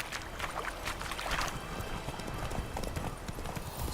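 Horse hooves gallop in a steady, rapid clip-clop rhythm through The Witcher Wild Hunt, loud and close with a continuous bed of ambient noise, no speech over it.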